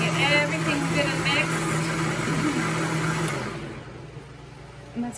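A Vitamix blender whirs loudly while blending hot sauce, then the motor winds down and stops partway through, leaving quieter room noise.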